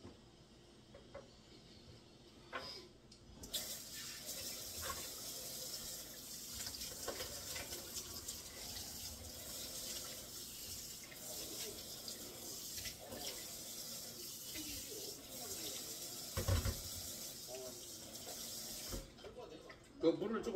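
Tap water runs steadily into a food waste blender at home, a continuous hiss and splash lasting about fifteen seconds, with someone talking faintly beneath it.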